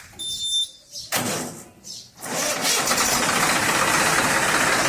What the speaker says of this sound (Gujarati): તો મિત્રો ટ્રેક્ટર આવી ગયું છે